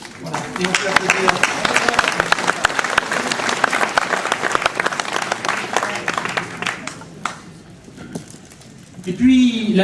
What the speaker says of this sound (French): Voilà, et on peut applaudir.